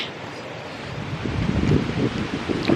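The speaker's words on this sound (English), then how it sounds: "The wind they forecasted showed up." Strong wind blows through timber in a turkey-hunting woods, a loud, continuous rushing roar with rustling that swells louder partway through, and no talking.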